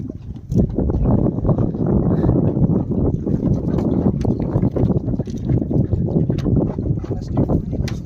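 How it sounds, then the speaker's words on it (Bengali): Strong wind buffets the microphone on a boat on the Bidyadhari river in the Sundarbans during crab fishing, a loud, steady roar with gusty rumbling that fills the whole stretch. "বাতাস প্রচুর হচ্ছে আজকে"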